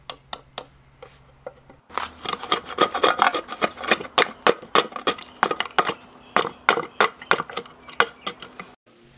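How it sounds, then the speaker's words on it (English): Repeated sharp hammer blows on a dull chisel cutting wood from a pallet 4x4, coming in irregular bursts of close, loud cracks with scraping and rasping between them after a quieter start. "I have to use a hammer to persuade the wood to come off"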